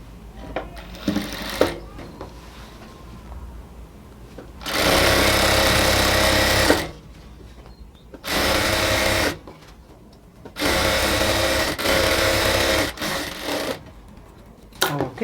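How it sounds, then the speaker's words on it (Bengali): A sewing machine stitches a half-inch seam along a salwar in several loud bursts of fast, close mechanical whirring, separated by short pauses. "এই পাশে আমরা হচ্ছে প্রথমে 1/2 ইঞ্চি করে পুরোটার মধ্যে একটা সেলাই দিয়ে নেব।"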